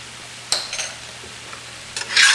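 Dry mango powder being stirred into a pan of cooking eggplant and potato, with a few scraping stirs and a brighter burst of clatter and sizzle near the end, close and fairly clear without talk.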